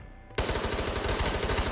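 Rapid automatic gunfire in the VR shooter Ghosts of Tabor bursts in suddenly after a quiet moment, a loud, dense string of closely spaced shots that keeps going to the end with no talking.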